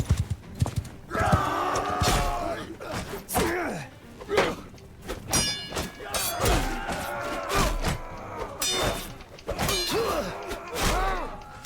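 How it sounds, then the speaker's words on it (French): Horse hooves thud and clop through snow in the Mount and Blade 2 Bannerlord video game, in irregular muffled steps with neighs and battle clashes nearby. "Oh la neige c'est horrible quand t'as un cheval il avance pas."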